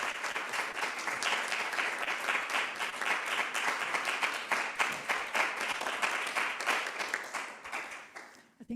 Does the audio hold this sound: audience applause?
yes